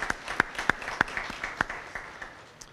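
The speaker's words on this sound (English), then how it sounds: "If we could please have a big round of applause for all of our trustees." Sparse applause at a nonprofit appreciation luncheon for the trustees, with several loud individual claps near the listener over softer clapping that fades toward the end.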